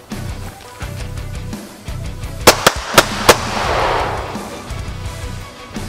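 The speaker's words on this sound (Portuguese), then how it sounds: "Dois disparos no centro de massa." Four sharp pistol shots crack out close by in quick succession during tactical shooting training, over a low background hum.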